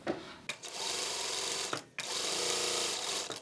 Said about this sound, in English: First, we'll do a regular stitch.